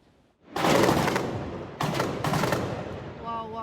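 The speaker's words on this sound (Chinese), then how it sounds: "政府的安全部队徛伫阳台向室内开枪" Government security forces fire from a balcony into a room during an armed clash with militants, heard as loud sustained bursts of gunfire that break off briefly and resume, with reverberant crackle throughout.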